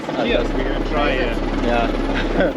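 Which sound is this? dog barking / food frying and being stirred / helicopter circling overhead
helicopter circling overhead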